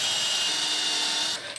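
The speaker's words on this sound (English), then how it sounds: "Then I'm countersinking." A power drill countersinks a screw hole in wood for workshop drawers, a loud, steady, close whirring grind that cuts off abruptly near the end and leaves a brief low rattle.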